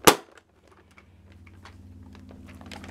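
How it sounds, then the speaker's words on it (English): A Dart Zone Tomcat dart blaster fires one sharp, loud snap at the start, followed by quiet clicks and a low mechanical hum. "And then you can chamber your dart and take the shot."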